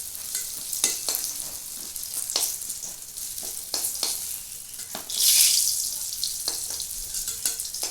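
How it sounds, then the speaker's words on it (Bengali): Pieces of kakrol (spiny gourd) sizzle in hot oil in a pan, a soft, steady crackle broken by sharp pops and a brief louder hiss partway through, with light clatter as the pieces are stirred. "এরকম ভাবে কিন্তু আমি সবগুলি কাঁকড়া ভেজে নেব।"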